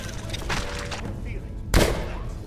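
Double-barrel shotgun blasts in the Skyrim video game. A few muffled shots come early, then one loud, sharp blast hits near the end. Someone narrates over the sounds.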